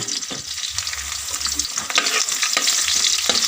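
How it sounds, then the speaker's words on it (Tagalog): Garlic sautéing in hot oil in a wok, a steady loud sizzle with bursts of stirring and scraping throughout. "Unahin muna natin pag gisa ang bawang"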